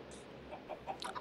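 Chickens in the Minecraft video game, giving several short, soft clucks and chirps at irregular intervals, faint and close together.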